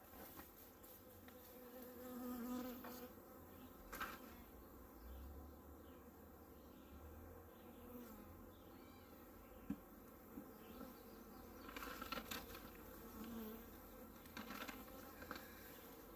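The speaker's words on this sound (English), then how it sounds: "And then I'm gonna shake some bees out in it." Honey bees hum around a hive frame being worked for a split, a faint, steady buzzing swarm close by with occasional soft knocks and handling noises.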